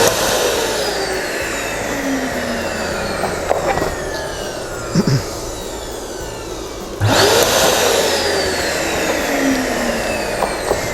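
An electric balloon inflator running steadily with a whirring, blower-like drone, close and continuous, briefly surging louder as balloons are filled, with no speech.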